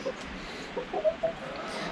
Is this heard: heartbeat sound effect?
no